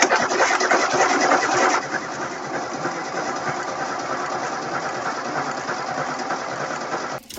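An older Mercedes-Benz W-series car engine, pre-restoration, turns over and runs with a busy, rattling mechanical chatter, louder at first and then settling into a steady running drone before stopping abruptly.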